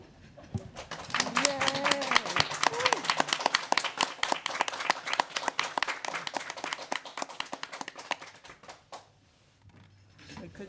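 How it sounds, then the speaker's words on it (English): A standing ovation at an Austin recognition event. Loud, dense clapping from a crowd builds quickly and holds for several seconds, then thins to scattered claps and dies away, with a voice briefly heard early on. "gave them a round of applause, like a standing ovation"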